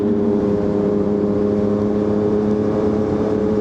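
A Triumph 675SR motorcycle with a single side exhaust drones steadily with a rough, throaty exhaust note, idling continuously at close range with no talking.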